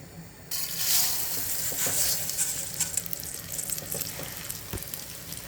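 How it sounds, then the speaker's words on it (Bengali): Rice grains frying in melted ghee in a frying pan for chicken tehari, a dense steady sizzle that bursts in after a brief quiet start and continues loud and close with faint scraping stirs. "আমি এখন ড্রাই করে রাখা চালটা ঘিয়ের মধ্যে দিয়ে দিচ্ছি ফ্রাই করার জন্য।"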